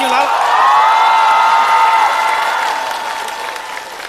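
A studio audience at a stand-up comedy final applauds and cheers loudly, with whoops and shouts rising to a sustained roar that slowly tapers off.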